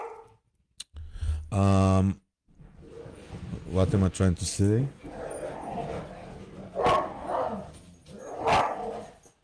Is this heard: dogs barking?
yes